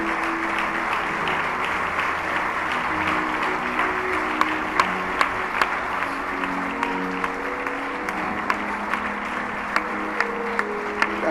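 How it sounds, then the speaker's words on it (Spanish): A church congregation applauds together, a steady dense wash of clapping that holds for several seconds, with sustained musical tones beneath it and a few sharper individual claps standing out near the end. "Vamos a darle un aplauso a nuestro Dios."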